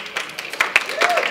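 Audience applause at a Martin Luther King Jr. memorial breakfast, greeting the first female president of Benedict College; a brief burst of scattered clapping from a crowd, moderately loud and brief.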